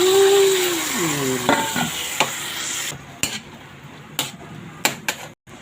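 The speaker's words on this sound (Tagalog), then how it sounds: "Ilagay na natin ang ating pork na minarinate." Marinated pork steak hits a pan with onion and garlic and is stirred, bringing a bright sizzle, scraping and clinks of a utensil against the pan, loud at first, then intermittent knocks over softer frying.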